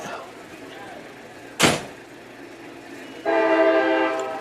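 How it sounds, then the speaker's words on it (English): A train rolls past a college baseball field, its low rumble steady beneath a sharp clank, then a loud sustained horn blast near the end, close by and fairly loud. "as the train goes through"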